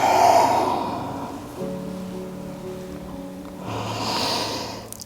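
A slow exhale during a yoga cat-cow stretch, a soft airy breath out at the start followed by a quieter stretch and another gentle breath near the end, close and alone.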